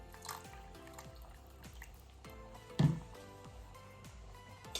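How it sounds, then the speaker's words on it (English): Water poured into a pot of homemade chili, soft splashing and dripping with small liquid plinks and one louder splash near the middle, fairly quiet and close. "I'm going to add just about a half a cup of water."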